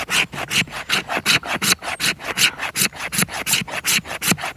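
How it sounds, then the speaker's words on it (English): A knife scraping down dry fatwood to make feather stick tinder outdoors, a steady series of about twenty rhythmic rasping strokes, close and clear with no talking. "We just need to scrape this down."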